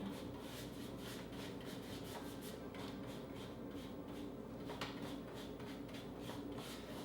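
Sanding to distress a painted piece of furniture gives a continuous, quiet rasping rub in quick back-and-forth strokes, close by and without talk.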